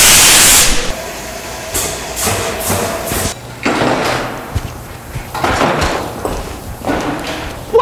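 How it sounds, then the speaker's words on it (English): A stamping press crushes an object with a series of heavy thuds and crunching bangs, each burst followed by hissing and clatter, loud and close, with no talk. "Each week, Harvey Vogel is going to stamp, crush, destroy something bigger and better."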